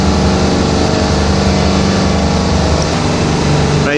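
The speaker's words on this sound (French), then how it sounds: "On entend les moteurs des frigos là." A loud, constant mechanical drone of a ship's refrigeration unit engines at Port Ouest, Réunion, at night hums steadily throughout, dense and unbroken, with no voices.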